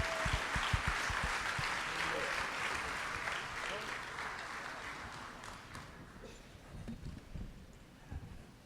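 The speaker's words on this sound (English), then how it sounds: "Thank you very much for the applause." Audience applause at a YMCA Night of Champions event fills the room as a broad wash of clapping that thins out toward the end, with voices mixed in beneath it.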